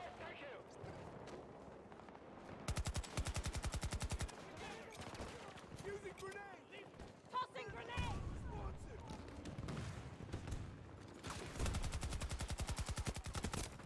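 Rapid automatic gunfire bursts in the Battlefield 2042 Spearhead map, loud and close, with long rattling volleys at the start and again near the end, mixed with scattered shots and in-game chatter between them.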